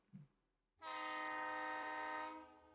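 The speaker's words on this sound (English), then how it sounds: "Oh, I think my train's here." A train pulls in and sounds a long, loud, steady horn blast that holds for about a second and a half before cutting off, with a brief faint thump just before it.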